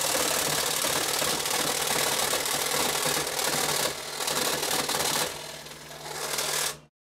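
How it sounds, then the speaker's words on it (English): A workshop machine fitted with a coarse blade cuts a very thin piece of brass sheet, a loud, dense, continuous grinding chatter that changes tone partway through and then cuts off abruptly at the end. "This is a very thin piece of brass sheet, and the blade in the machine is quite coarse."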